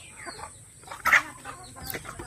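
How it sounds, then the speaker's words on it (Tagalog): Texas breed chickens cluck in scattered bursts nearby, with one louder, sharper call standing out midway through the short stretch. "Ito mga manok. Mga Texas."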